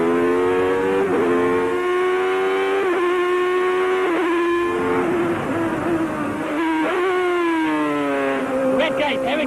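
A Ferrari F1 2000 racing car engine screams at high revs on track, rising in pitch through repeated upshifts with sharp breaks at each gear change. A driver talks over it.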